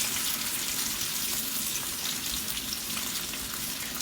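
Bacon fries slowly in a pan with a soft, continuous sizzle and light crackling pops, fairly quiet and steady with no talk over it.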